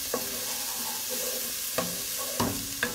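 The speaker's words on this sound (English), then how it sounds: "you just wanna saute them" Onions sauté in hot bacon fat for a cheddar, broccoli and beer soup, a steady close sizzle broken by a few sharp scraping stirs of a utensil against the pot, with no talking.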